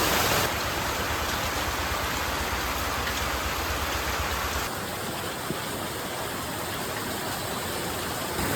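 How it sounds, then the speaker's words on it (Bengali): Steady rain falls throughout, a dense even hiss with no voices. The wash thins slightly partway through but keeps going. "আবার দেখো বৃষ্টি বৃষ্টি"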